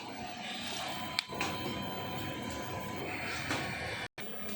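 A DTF printer runs an edge-clean head cleaning cycle, giving a steady close mechanical whir and hum with a few brief clicks and a short sudden dropout near the end.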